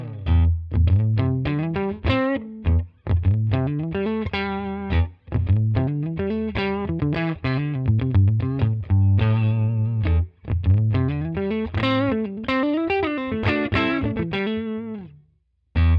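An electric guitar on its neck pickup, played through the Amplitube 5 amp simulator with a Fender-style tone, plays distorted riffs and held notes with a warm, bass-heavy tone, loud and close, then rings out and stops near the end.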